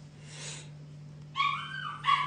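A dog makes brief whining yelps indoors, two short high bursts after a quieter whimper, faint and fairly close against a steady low electrical hum.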